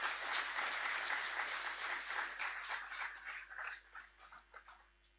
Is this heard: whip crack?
no